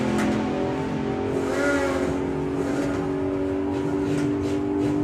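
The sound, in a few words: Hemi Hunter supercharged drag car run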